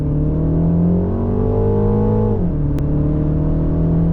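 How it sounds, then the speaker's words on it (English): A 2025 MINI Countryman S ALL4 accelerating hard from idle, heard from inside: a loud, continuous engine drone rising in pitch, then dipping briefly at a gear change before climbing again. "let's do our first acceleration test. Off idle, 3, 2, 1. Go"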